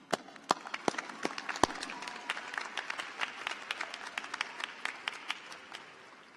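A crowd applauds at a law school spring graduation ceremony, with many sharp individual claps standing out from a dense, moderately loud wash that fades near the end.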